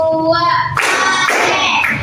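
A classroom of children claps in short loud bursts during a counting chant, with young voices and a teacher speaking throughout.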